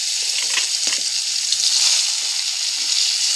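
Onions fry in hot oil as the base for an Odia fish besara curry, giving a steady, close hiss of sizzling that holds evenly throughout with no voices.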